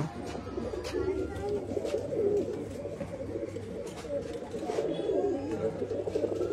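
Pigeons cooing at a pigeon sale in Bangalore, low steady burbling coos repeating throughout over a busy ambient background, with a voice speaking now and then.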